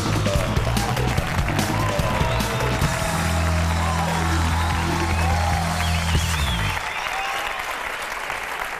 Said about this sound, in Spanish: recibamos con un fuerte aplauso a la exterminadora del humor